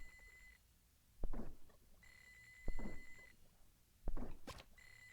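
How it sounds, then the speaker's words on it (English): Alarm in the video game Normal Fishing: a repeating high electronic beeping tone that cycles on and off, with three heavy low thuds landing between the beeps. "There's an alarm going off"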